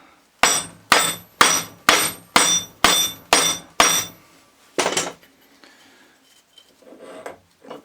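Eight sharp metallic hammer blows on a Ford Transit alternator shaft ring out in a steady rhythm, followed by one duller strike and some faint clinks and rustling.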